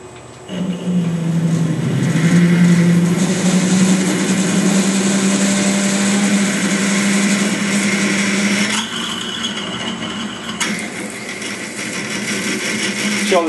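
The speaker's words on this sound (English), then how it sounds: "The 12mm drill." A 12mm drill bit cuts into metal on a drill press after a centre mark and a smaller pilot hole, giving a loud, steady grinding whine with a humming motor tone that shifts partway through.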